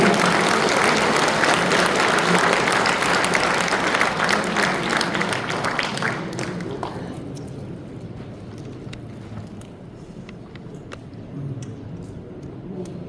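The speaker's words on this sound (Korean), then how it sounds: "큰 박수 부탁드리겠습니다" Loud audience applause at a church men's fellowship national convention, dense clapping for about six seconds, then fading into scattered claps that trail off.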